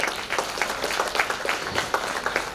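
A small audience at a school music and book launch event applauds, producing a short burst of uneven, fairly distinct claps over about two and a half seconds.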